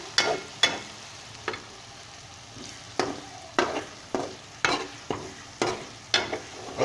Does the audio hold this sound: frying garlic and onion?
yes